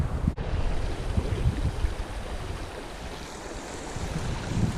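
Strong, gusty wind by a river during fly fishing, roaring loudly and steadily across the microphone for the whole stretch, with a brief dip in the rumble near the start.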